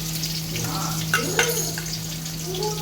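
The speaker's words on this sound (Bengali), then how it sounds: "আমি পেঁয়াজটা দিয়ে দেবো তেলের মধ্যে" Chopped onions fry in hot oil in a heated pot, giving a soft, steady sizzle with a few brief scraping stirs, fairly quiet, under a constant low electrical hum.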